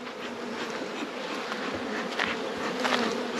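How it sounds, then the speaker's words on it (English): Honey bees swarm and buzz in a dense, steady drone over an opened hive during honey harvesting, the hum filling the space continuously and growing slightly louder toward the end. "what smoke does is it pushes the bees down into the hive further"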